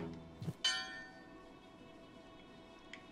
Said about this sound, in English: You hear that? Sounds like twinkle bells.